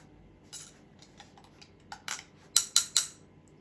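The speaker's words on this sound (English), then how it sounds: "Quickly mix the sugar and the crema." Spoon clinking against a cup while stirring sugar into espresso crema, brief soft scrapes leading into three bright, close metallic taps in quick succession, heard alone in a quiet kitchen.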